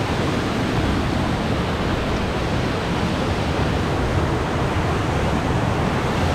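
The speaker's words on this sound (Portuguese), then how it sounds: "E olha essa cachoeira aqui." Cachoeira do Jajá in Morretes pours in a steady, dense roar of falling water, close by and unbroken, with no voices over it.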